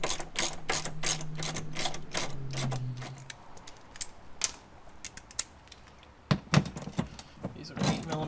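A ratchet removes 10 millimeter bolts from a salvaged 2015 Dodge Dart, with rapid close clicking bursts, metallic clinks and pauses, while someone talks between the bursts.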